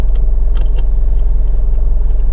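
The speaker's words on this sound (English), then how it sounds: "Starts up, sounds like a sweet heavy diesel." Heavy diesel engine of a 2000 Hino Dutro cargo van running steadily after start-up, a loud, even low rumble with a regular throb, close by, with faint clicks and rattles on top.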